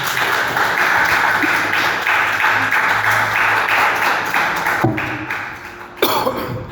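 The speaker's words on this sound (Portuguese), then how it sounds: "Vamos aplaudir Jesus bem forte." A church congregation claps loudly and rhythmically in praise during a worship service, sustained applause with a cough and a couple of sharp taps near the end.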